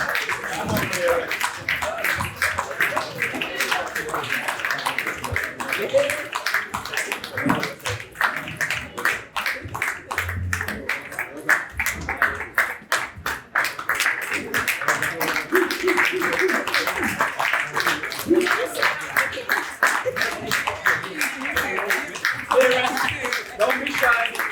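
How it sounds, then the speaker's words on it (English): Scattered clapping from a group at a boys' graduation ceremony, with a voice talking loudly over it much of the time. "big round of applause for the parents."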